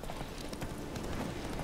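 A horse gallops in the video game The Witcher 3, its hoofbeats thudding in a fast, continuous rhythm inside a dense, loud wash of game noise.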